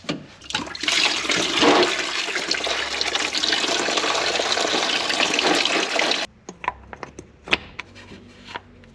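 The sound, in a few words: water draining from Daihatsu Midget cooling system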